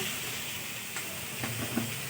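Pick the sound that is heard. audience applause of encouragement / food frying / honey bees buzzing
food frying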